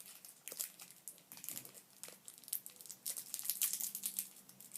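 Plastic wrapping of sour gum candy ripped open by hand, producing close, fairly quiet crinkling and crackling bursts that grow busier toward the end.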